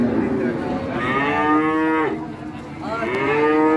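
A Limousin cross bull calf of six to seven months moos loudly and close by at a cattle market, two long bellowing calls with a short pause between them over low background noise.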